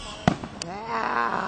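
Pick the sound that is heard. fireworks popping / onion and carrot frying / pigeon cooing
fireworks popping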